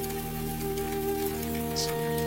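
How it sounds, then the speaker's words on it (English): Rain pattering on the roof of a mountain lodge at night, a steady, soft, even patter that continues throughout with no other sounds. "There is no sound but the patter of the rain on the roof"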